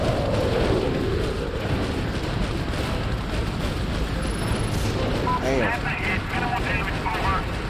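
Missile explosions rumble and boom continuously in the Prototype game on PS5, a dense, loud roar of blasts with a higher whistling streak near the end, while a player talks over the chaos.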